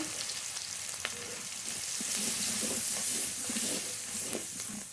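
Nigella seeds and chopped onion fry in hot oil with a steady, close sizzle, a dense bright crackle that builds slightly midway.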